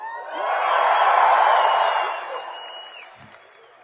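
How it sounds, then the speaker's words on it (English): A commencement crowd at the University of Oregon cheers and whoops in a broad roar that swells over about two seconds, then fades to scattered voices. "You're supposed to cheer louder when that happens."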